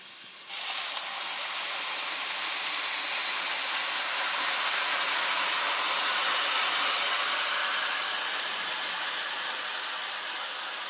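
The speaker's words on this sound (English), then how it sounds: "So now, if you think it's steaming now, it's going to get really intense for a minute." Mexican beer hits a hot pan of carnitas and erupts into a loud, continuous steaming hiss that swells and holds for several seconds, close and steady, with no talking.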